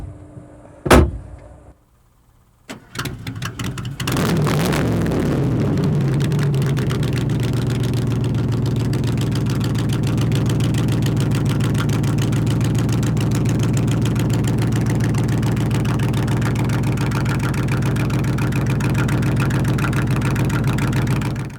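1965 Shelby Daytona Cobra Coupe: a door thump and clunks, then the engine fires with a sharp rising roar and settles into a loud, deep, steady rumble that carries on close by to the end.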